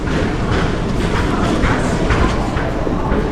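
Trains at the underground railway station in Bern: a dense, loud rumble of rolling rail cars with soft thuds and clatter echoing throughout the short stretch.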